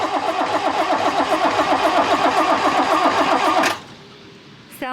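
A catamaran's engine cranks steadily with a fast, even churning rhythm while fuel is bled through, loud and close, then cuts off abruptly into near silence.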